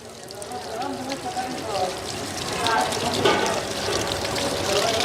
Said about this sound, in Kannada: ನೋಡಿ ಕೊಳೆ ನೀರು ಯಾವ ರೀತಿ ಹೋಗ್ತಾ ಇದೆ